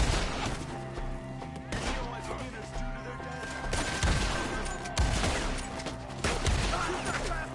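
Repeated gunshots from a firefight in the video game Red Dead Redemption 2, loud bursts landing irregularly over several seconds with scattered shouting voices in between.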